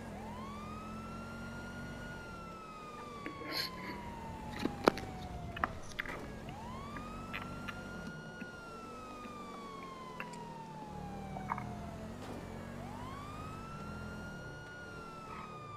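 A police car siren in a video game wails in long rising and falling sweeps, fairly faint, with scattered clicks and short game sounds and no talking.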